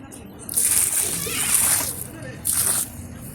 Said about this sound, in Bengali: এই জলটা এখানে দিয়ে দিই